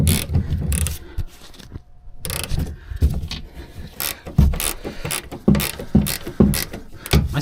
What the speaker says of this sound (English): now I can use my ratcheting wrench